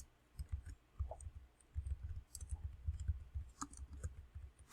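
Someone types text on a computer keyboard, making quiet, rapid, uneven key clicks and soft thumps in a continuous run. The sound is faint and close, with no talking.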